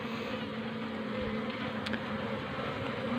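A steady, dense buzzing of many Asian honeybees (Apis cerana) humming together at close range at their hive, continuous and unbroken throughout.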